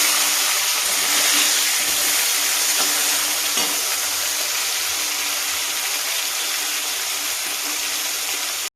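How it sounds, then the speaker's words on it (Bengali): Small fish fry in hot oil with a dense, steady sizzle and crackle, loud and close, continuing unbroken with occasional faint stirring taps. "এই কিছুটা মাছ ভেজে নিয়েছি আর কিছুটা মাছ ভাজছি।"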